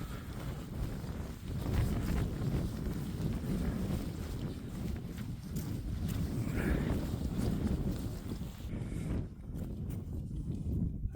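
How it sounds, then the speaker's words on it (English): Strong, steady wind on open Peak District moorland buffets the microphone with a continuous low roar and gusty rumble throughout, with no voices. "It is very, very windy."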